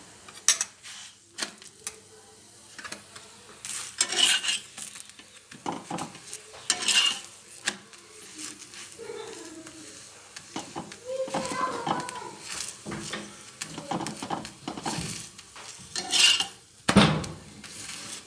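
Food turning and cooking in a lightly oiled pan while aloo gobi matar is made, with scattered clinks of utensil against pan, soft stirring scrapes and a faint sizzle, some louder knocks, in a home kitchen.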